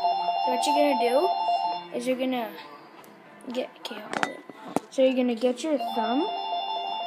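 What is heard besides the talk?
mobile phone ringing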